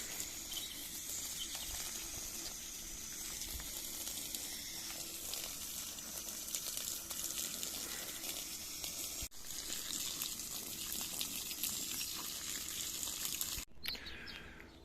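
A garden hose sprays water steadily over newly planted tree ferns, a continuous hissing spatter heard close, with faint birdsong behind and a couple of brief breaks in the flow.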